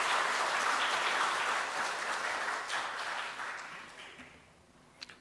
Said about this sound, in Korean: 우리 청년들에게 격려의 박수 한번 주시죠